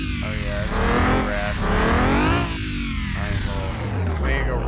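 Renault Clio V6 with a very short, raspy exhaust revs in several sharp blips, pitch rising and falling between short pauses, loud and close.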